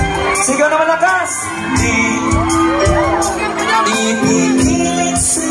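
Dense rally crowd at a proclamation event in Tarlac City, Philippines, shouting and cheering continuously, with whoops and raised voices layered over music close by, loud throughout.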